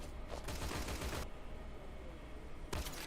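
Bursts of rapid gunfire from an M1 carbine in the World War II shooter Honor and Duty D-Day, a dense loud volley of shots followed by a lull and another short burst near the end.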